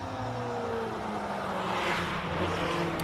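The March 77B race car, car number 5, climbs the Simola hillclimb. Its engine note rises steadily, loud and sustained, with a strong whirring drone that holds for about three seconds.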